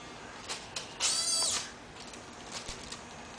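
A small gear mechanism drives the wings of an RC ornithopter, a brief whirring buzz with faint flapping ticks, fairly close and steady.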